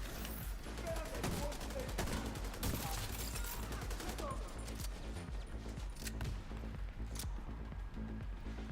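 Rapid bursts of gunfire from special ammo in The Division 2, crackling volleys and shots layered over a busy game mix, loud and continuous, with faint talk mixed in.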